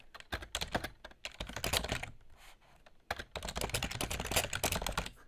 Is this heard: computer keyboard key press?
yes